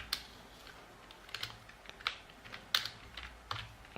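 Someone types on a computer keyboard in short, sparse bursts of clicks, fairly close and quiet, with no talking.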